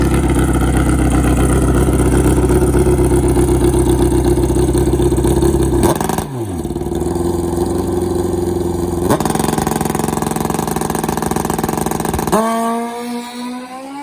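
A drag racing motorcycle roars loud and close, engine droning steadily, dipping abruptly when the bike fails to shift, then revving again and cutting off near the end.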